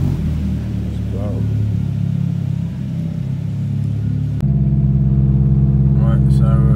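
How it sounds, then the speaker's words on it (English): A car engine idles and warms up inside a dyno cell, a steady low rumble that shifts to a louder, more even drone partway through, with a voice talking over it. "warming up the engine"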